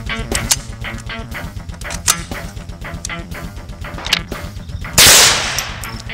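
A .22 LR handgun is fired at a BulletSafe bulletproof vest, producing one loud, sharp, close crack near the end, preceded by a run of lighter clicks and knocks.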